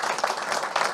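A brief burst of audience applause, many hands clapping steadily at moderate volume, with no voices.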